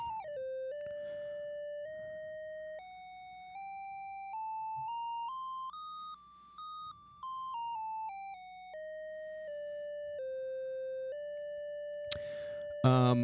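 A single synthesized tone steps up a Phrygian dominant scale and back down, note by note, fairly quiet, with a brief burst of noise near the end.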